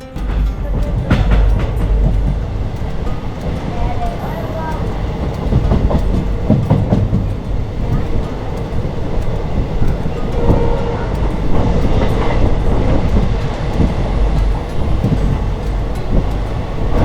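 A passenger train pulls out of Vaniyambalam station on Indian Railways, its steady rumble and clickety-clack of wheels over rail joints loud and close, running continuously with no talk.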